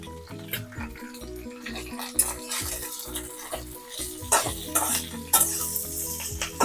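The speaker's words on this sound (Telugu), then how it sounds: "కొంచెం జీలకర్ర, అలాగే చింతపండు కూడా ఇందులోనే వేపేస్తున్నానండి నేను." Cumin, tamarind, coriander seeds, curry leaves and red chillies are dry-roasted in a pan for a Telugu-style shallot chutney. Close sizzling runs under repeated scraping and stirring strokes of a spoon against the pan, with no talking.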